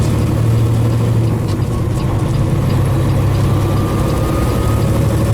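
A heavy truck with a 13-speed transmission runs at a steady low drone, with a slight dip and change in engine pitch partway through as it shifts up, close and continuous.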